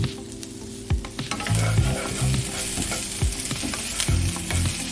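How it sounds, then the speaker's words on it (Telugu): Chicken pieces with ginger-garlic paste and onions fry for an Andhra-style curry, a loud close sizzle broken by repeated heavy spatula scrapes and knocks against the pan. "అది మగ్గిన తర్వాత చికెన్ వేసుకోవాలి. బాగా కలిపి పెట్టుకోవాలి."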